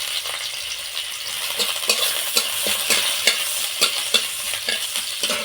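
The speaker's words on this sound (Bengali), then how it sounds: "পেঁয়াজটা একটু এইভাবে নাড়াচাড়া করে দিয়ে দিচ্ছি এর মধ্যে লঙ্কা কুচি।" Chopped onion and chili fry in hot oil in a pan while a spoon stirs them, a steady close sizzle broken by repeated light scraping clicks of the utensil against the pan, with no talking.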